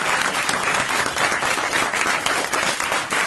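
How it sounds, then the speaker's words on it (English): An audience breaks into steady, dense applause, many hands clapping continuously and close without pause for a few seconds. "you can applaud for that"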